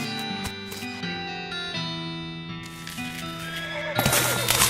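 A horse whinnies in the video game West of Loathing, a bright rising neigh over a layered musical game backdrop with a burst of noisy effects near the end.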